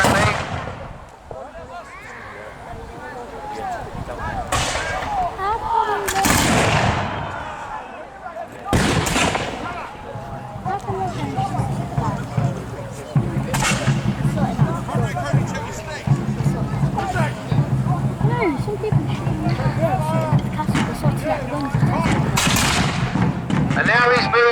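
Cannon fire at an English Civil War re-enactment at Tattershall Castle, several loud booming blasts spread across the scene, with crowd babble and commentary running throughout.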